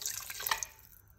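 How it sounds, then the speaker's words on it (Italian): Water pours over chickpeas in a cooking pot, a brief splashing and dripping trickle that is fairly close and tapers off after a moment, with no voices. "Copriamo con l'acqua"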